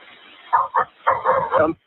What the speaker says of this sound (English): You can hear the dogs in the background barking.